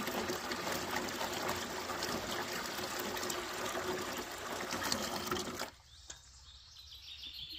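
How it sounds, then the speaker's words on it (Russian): Water poured from above through a homemade net filter in an improvised outdoor water-cleaning setup: a steady, dense splashing rush that stops abruptly near the end, leaving a much quieter background. "если аккуратно лить сверху, то все в порядке, вода очищается сразу"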